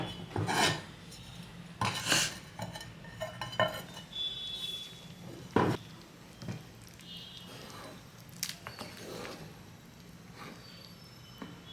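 Vegetable pulao being stirred in a cooking pot over the stove, with repeated metallic scrapes and clinks of a spoon against the pot at an uneven rhythm, fairly close and moderately loud, no talking.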